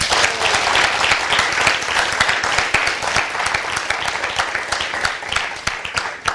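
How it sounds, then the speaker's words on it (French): A studio audience at a live broadcast applauds loudly and continuously, dense clapping close up that holds steady throughout. "Donc on s'applaudit."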